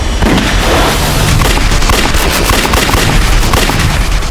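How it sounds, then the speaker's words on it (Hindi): Gunfire in a TV crime drama shootout: rapid, dense bursts of shots crackle and boom continuously and loudly throughout, overlapping with no pauses and no talk. "Open fire."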